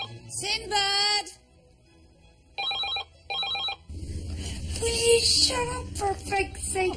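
A shouting voice comes first, then a telephone bell rings indoors in two short trilling bursts, followed by overlapping voices and room noise.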